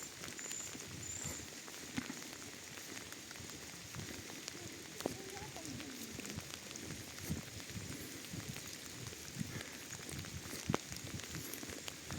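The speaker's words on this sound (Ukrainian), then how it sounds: "прогулянка парком під акомпанемент дощу" Steady rain patters and drips outdoors, with scattered sharper drops and faint movement noises mixed into a soft, continuous wash.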